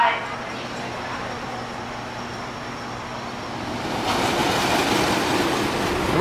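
The Grizzly wooden roller coaster train at Kings Dominion rumbling along its track, a steady loud roar that swells and grows brighter toward the end, with riders' voices mixed in.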